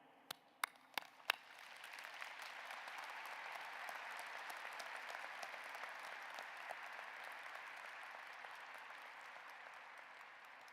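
Commencement audience at a university graduation ceremony applauding the graduates: a few sharp claps at the start swell into sustained, steady applause from a large crowd, moderately distant and without speech.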